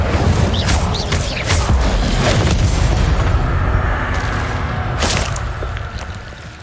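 Incendio fire spell cast in the Hogwarts Legacy video game: a loud, roaring burst of flame that whooshes steadily for several seconds, then tapers slightly toward the end.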